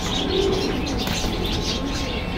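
Pigeons coo softly and continuously at a pigeon market in Jinjira Bazar, Keraniganj, a low throaty murmur with faint chirps and rustling nearby.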